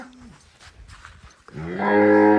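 A dairy cow on a farm lets out a long, loud moo that starts partway through and holds to the end. Quieter farm sounds and a brief low call come before it.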